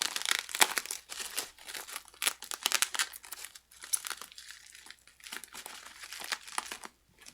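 Packing tape is peeled and wrapping crinkled off a well-wrapped GALAX 2070 graphics card package, with close, loud bursts of crackling and tearing that come in uneven waves and stop briefly in between.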